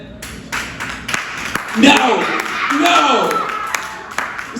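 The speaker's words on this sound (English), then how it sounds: "See, I knew women were gonna clap." Audience at a comedy pop-up show in Atlanta breaking into scattered clapping that swells briefly, mixed with crowd murmur and a comedian's voice over the top.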